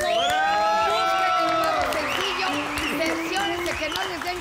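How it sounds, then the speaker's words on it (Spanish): A crowd cheers and whoops for the Mexican banda group Banda Machos, with high, sliding shouts and yells rising over scattered clapping, fairly close and loud, voices dominating the mix. "La banda Machos, un super aplauso."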